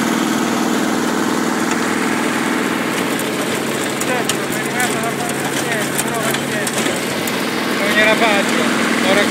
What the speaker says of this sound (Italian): Con il mio vecchio trattore.